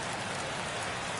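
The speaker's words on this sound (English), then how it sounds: "This rain is not letting up." Steady, dense rain pours down during a Miami Marlins versus Atlanta Braves baseball game in MLB The Show 23, a constant loud hiss with no breaks.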